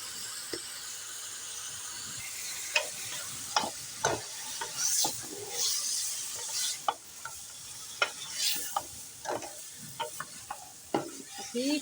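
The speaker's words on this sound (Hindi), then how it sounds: "बीफ और अदरक लहसुन को हम अच्छी तरह से भून लेंगे।" Beef frying with ginger garlic paste for nalli nihari, a soft continuous sizzle broken by irregular scrapes and clinks of a spoon stirring in the pot, close and fairly quiet.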